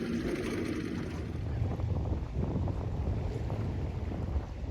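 Strong wind buffets the microphone on a boat out on Moosehead Lake, a heavy rumbling gusty roar that surges and churns continuously over the few seconds.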